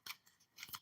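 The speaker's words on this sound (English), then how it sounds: "you're watching me shuffle" Tarot cards shuffled by hand in two quick crisp bursts of riffling, close and quiet, with a short pause between them.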